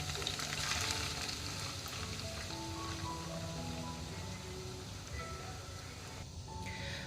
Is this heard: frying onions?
yes